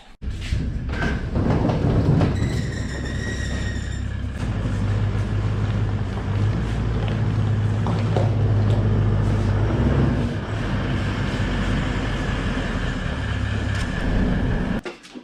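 A 200 series 4WD rolls into a shed with a steady low engine rumble and drivetrain drone, loud and close throughout, with faint clicks and rattles over it and no talking.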